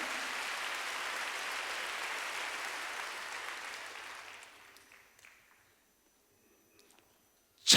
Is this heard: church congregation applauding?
yes